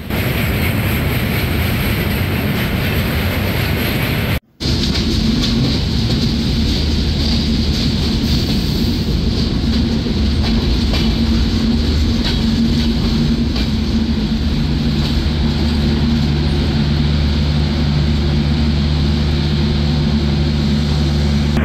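Sagardari Express, a broadgauge train between Rajshahi and Khulna, rumbles steadily on the rails with a loud continuous low roar and drone that runs throughout, broken by one brief dropout near the start.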